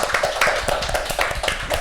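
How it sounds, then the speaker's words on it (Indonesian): An audience at a company gathering claps for a speaker: a short burst of brisk, rhythmic clapping from a modest crowd, close and fairly loud, with no talking over it. "tepuk tangan buat Pak Henry"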